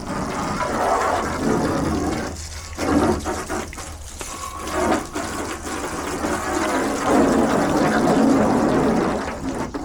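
Water from a hose rinsing caked mud off a crashed truck, a loud continuous gushing spray with uneven surges and a short dip partway through, no voices.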